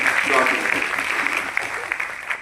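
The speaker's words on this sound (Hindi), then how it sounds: "तो आप लोग तालियां बजाइए सिमरन के लिए" Audience at a child welfare foundation day event clapping for a young woman named Simran, a short burst of applause with a voice speaking over it.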